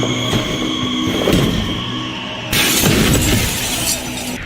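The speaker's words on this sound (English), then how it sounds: "woman falls over the overhang there into a glass table" In a TV drama scene, a glass table shatters as a woman falls onto it: loud breaking glass with a sudden bright crash midway, then tinkling shards over a continuous background rumble.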